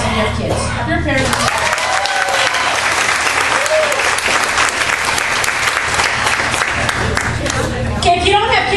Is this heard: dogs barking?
no